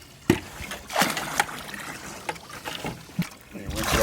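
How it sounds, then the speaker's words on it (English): Water rinses through a Jandy salt chlorine generator cell, with splashing, trickling and bursts of running water at close range. "And rinse it all out."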